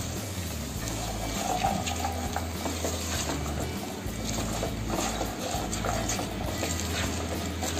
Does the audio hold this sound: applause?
no